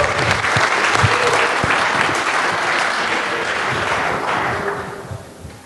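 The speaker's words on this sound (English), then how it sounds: "Ladies and gentlemen, nice round of applause please for Dale Apollo Cook." A roomful of people applaud at a K-1 kickboxing pre-fight press conference in Los Angeles, dense and loud at first, then gradually thinning out toward the end.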